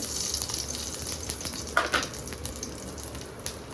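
Curry leaves, cumin and mustard seeds sizzle in hot oil with a steady, close crackle, and a few sharper pops burst out near the middle.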